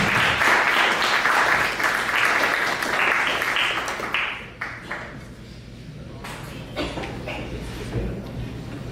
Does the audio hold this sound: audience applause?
yes